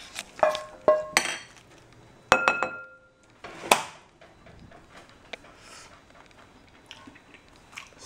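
Cooked soyrizo and black beans being scooped from a pan into a bowl: several sharp metallic clinks and scrapes of a utensil on cookware, close up, then quieter soft shuffling, and no voices.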